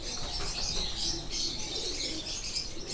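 Rampuri pigeons coo softly amid a busy backdrop of chirping birds, a steady layered flock sound with no talking.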